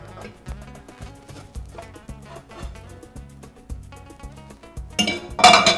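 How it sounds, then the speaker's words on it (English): A plate clinks and rattles against a frying pan as a Spanish omelette is readied for flipping, with light repeated metallic knocks and a louder clatter at the end. "Put your plate on there, and we're gonna flip it over."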